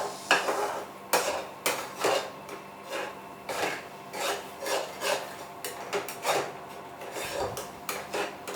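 A spoon scrapes and stirs dry fruit sheera in ghee in a pan, a close rhythmic rasping of repeated strokes with no talk.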